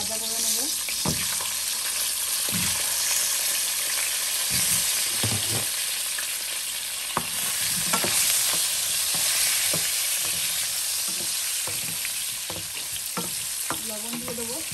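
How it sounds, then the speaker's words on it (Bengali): Potatoes with turmeric fry in a hot wok, giving a steady loud sizzle with intermittent scraping stir strokes throughout, no talk over it. "এখন আলুগুলো দেবো, একটু করে ভাজা করে নেব"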